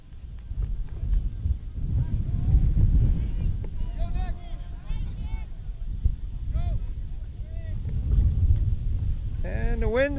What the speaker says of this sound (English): the wind decided to pick up